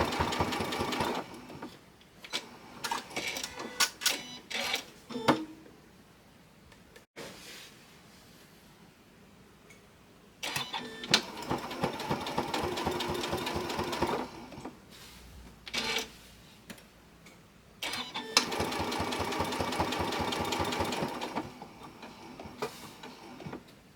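A sewing machine stitches quilt fabric for a stained glass quilt wall hanging, running in quick rattling bursts of several seconds each, separated by short pauses and soft clicks, close and clear with no talk.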